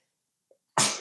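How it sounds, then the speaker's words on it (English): A single sharp sneeze, loud and close, preceded by a brief quiet intake of breath. "I'm going to sneeze."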